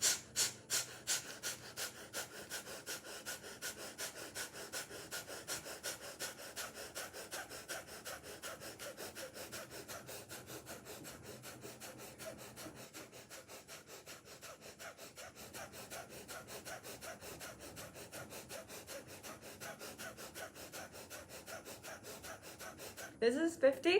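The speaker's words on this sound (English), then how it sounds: "100 times breathing like this is fire breath out of the nose" Kundalini yoga fire breath: rapid, forceful exhalations through the nose repeat in a fast, steady rhythm for the whole stretch, close and clear, with a brief louder burst at the very end.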